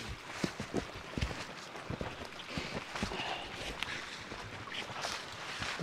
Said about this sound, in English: Oh yeah, there's a very nice babbling brook here.